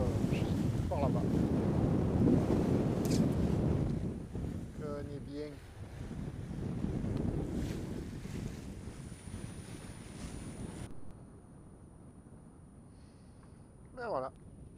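Steady wind buffets the microphone with a low roar while sailing near Port-Cros, France, and water and boat noise sit underneath. Voices speak briefly at times, and the gusts ease off near the end.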